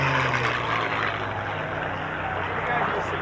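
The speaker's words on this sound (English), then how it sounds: "There you get a photo pass for some Mustangs as they waggle their wings, saluting you." P-51 Mustang fighters pass overhead at an air show, their propeller engines making a loud, steady roaring drone for about three seconds with no pause.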